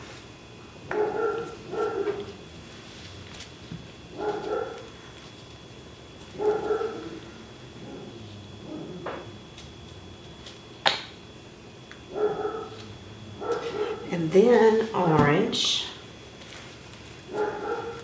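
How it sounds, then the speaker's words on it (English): A pet dog barks several times in short repeated bursts indoors, moderately loud, with a louder cluster near the end, while a person talks quietly between barks during an acrylic paint pouring session. "I'll have to excuse my dog. She barks at everything."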